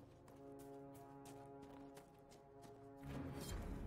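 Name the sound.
horse hooves in video game Dragon Age Inquisition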